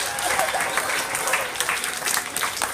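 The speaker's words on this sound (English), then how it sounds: "Give a big round of applause." Classroom applause after a correct answer, a moderate, continuous patter of many hands with some voices mixed in, steady throughout the short stretch.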